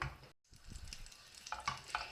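Two tablespoons of butter sizzle and crackle in a pot, with a few metallic clinks from stirring near the end.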